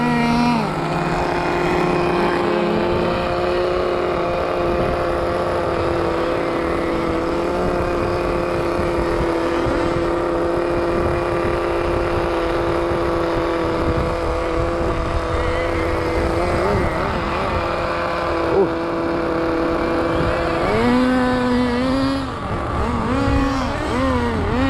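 A nitro RC car fitted with a 2-speed gearbox drives on a road track, its small engine giving a loud continuous buzzing whine that holds fairly steady, then rises and falls in pitch near the end, with no talking.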